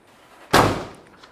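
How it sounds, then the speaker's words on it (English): A 1970 Ford Mustang Mach 1 car door shuts once with a single solid thump that trails off quickly, close and loud against a quiet background. "Door shuts nicely."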